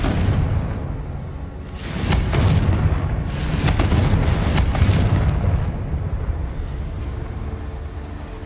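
Confringo fire spell blasting in the Hogwarts Legacy game, a deep rumbling explosion with booming bursts and crackling debris that swells and lingers, loud and dense throughout.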